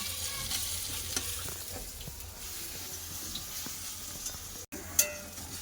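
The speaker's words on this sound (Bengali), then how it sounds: "এরকম লাল লাল করে দুই পাশ ভেজে নেবো" Vegetable pakoras frying in oil with a steady, moderately quiet sizzle, a few faint stirring clicks, and a brief break before a sharper clink near the end.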